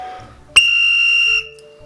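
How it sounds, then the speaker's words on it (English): A police or coach's whistle gives one loud, shrill, steady blast close by, lasting under a second and cutting off cleanly, with no voices. "A police whistle or coach's whistle is the quintessential loud whistle sound."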